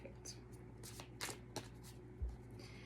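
Tarot cards riffling and slapping together in a few uneven shuffling bursts, close and fairly quiet, with a low steady hum underneath.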